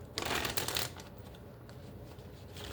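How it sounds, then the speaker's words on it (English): Tarot cards being shuffled by hand, a quick flurry of riffling rustles up front that eases into softer, steady card friction, close and alone with no talk. "All right, let's do 3 shuffles here."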